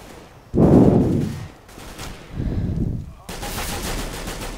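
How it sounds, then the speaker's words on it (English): Gunfire in the Counter-Strike: Global Offensive video game, heard as three bursts of loud rapid shooting, the first strongest, separated by short pauses and ending in sustained noisy game ambience. "the bullets, so many bullets, they're lagging up the game"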